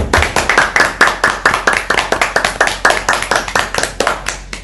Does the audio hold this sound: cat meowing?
no